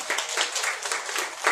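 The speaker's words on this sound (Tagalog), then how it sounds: "Palakpakan po natin ang ating pong Panginoon." A church congregation claps for the Lord, a dense, steady wash of many hands applauding together, loud and continuous with no voices standing out.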